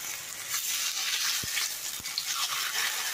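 Fillets sizzle in a frying pan alongside vegetables, a continuous close crackle broken by two sharp clicks partway through, with no voices.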